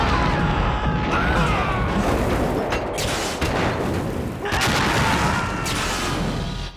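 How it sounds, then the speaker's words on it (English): Railgun fire in the Metal Gear Solid 2 video game: loud, continuous booming blasts and crashing impacts filling the whole stretch, with sharper bursts around the middle and later on. "the recoil on that thing. It's a railgun."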